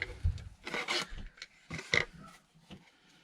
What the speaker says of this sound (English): So I just kind of will scrape away at this glue that's left behind.